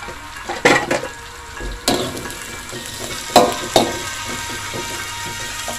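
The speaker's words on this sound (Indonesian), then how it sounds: "Kita tumis hingga bawang putih, bawang merah, dan jeruk dan serainya warnanya kecoklatan dan baunya harum" Shallots, garlic, lime leaves and lemongrass sauté in a pan, a soft sizzle underneath while a utensil knocks and scrapes the pan in several sharp, separated strokes, close by and without voices.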